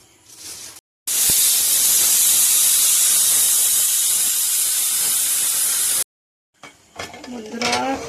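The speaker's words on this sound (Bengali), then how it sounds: "এখন খালি দুটো সিটিতেই হয়ে যাবে।" A pressure cooker whistles loudly and steadily for about five seconds while goat meat cooks inside, a sharp, hissing steam blast with quiet kitchen sounds just before and after it.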